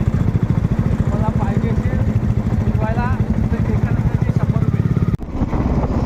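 A Hero Splendor motorcycle modified into a scrambler runs with a rapid, steady engine putter close by, heard under continuous talking and riding noise.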